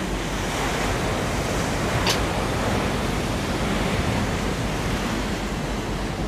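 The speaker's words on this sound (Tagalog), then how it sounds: "Kita niyo yung palo ng alon na yan." Ocean waves pound an eroding shoreline in Zambales, a loud, dense, continuous roar of surf with heavy wind rumble throughout and one brief sharp crack partway through.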